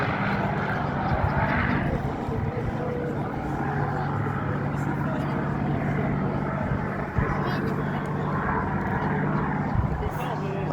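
A P-51 Mustang flies at a seaside air show at Clacton-on-Sea, its engine a steady distant drone with a low hum that holds throughout, while people talk nearby.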